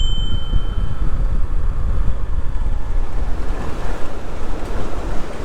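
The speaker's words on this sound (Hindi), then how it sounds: "ये वाटरफॉल है" Steady, heavy rush of a waterfall between Lulusar Lake and Lalazar, Pakistan, roaring continuously, with broad low rumble and hiss, no voices present.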